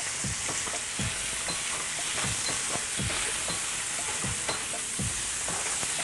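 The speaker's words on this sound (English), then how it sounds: "I'm going to add some chicken. See that sizzle?" Chicken pieces sizzle and crackle in a hot pan as they are stir-fried, a steady loud hiss broken by regular scraping stirs roughly every half second, with no talking.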